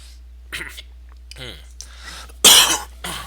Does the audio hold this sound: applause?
no